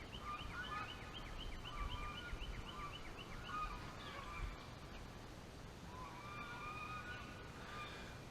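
Geese at Lake Lurleen in Alabama honk in faint, repeated calls from a distance over soft water and wind noise along the shore, with no talk.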